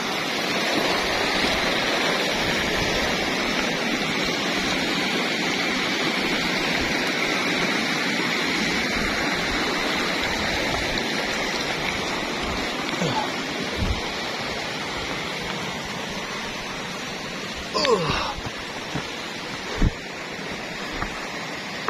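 A rocky river on the Torean route of Mount Rinjani, steady broadband rushing water over stones heard up close for the whole stretch, with a few faint knocks and footsteps near the end.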